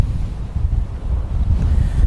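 Strong outdoor wind buffets the microphone in a continuous low rumbling roar, gusting unevenly throughout with no voices.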